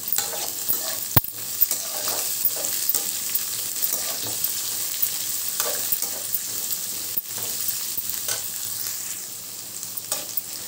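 Carrot, French bean and capsicum pieces frying in a pan for vegetable fried rice, giving a continuous bright, close sizzle with occasional soft scrapes and taps of a stirring spoon.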